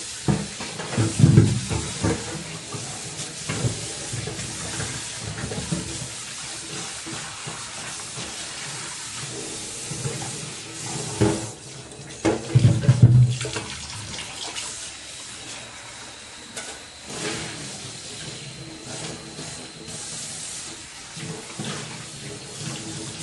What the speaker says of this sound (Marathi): आता ही कढई मी आता धुवून घेते बरं.